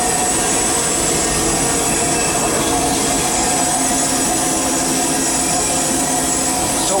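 Steady, loud hiss and roar from the blower of the C.K. Holliday steam locomotive on the Disneyland Railroad, heard continuously from inside the cab with rumbling rail noise underneath.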